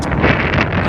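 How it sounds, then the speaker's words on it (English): Outdoors, wind blows hard straight into the microphone, a loud steady roaring rumble with nothing else audible. "excuse me if it's windy"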